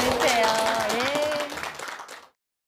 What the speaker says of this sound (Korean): 아름다운 무대 보여주신 두 분께 박수 한번 보내주세요